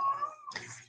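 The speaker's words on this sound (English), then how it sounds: "If you hear my cat, he's in the kitchen." A house cat meows once from a home kitchen, a short tonal cry that breaks into a rougher, breathy tail; it is brief and moderately close, with no talk.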